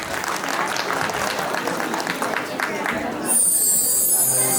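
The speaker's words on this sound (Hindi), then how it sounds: "तो एक बार उनके लिए जोरदार तालियां प्लीज।" Loud crowd applause at a Basant Panchami festival after a children's performance, dense clapping that fills most of the moment before giving way to a brighter tonal sound near the end, with crowd chatter mixed in.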